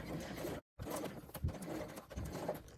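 Sewing machine stitching a zip lining seam in thicker fabric, a steady close mechanical whirr running throughout, broken by one brief full stop before it resumes.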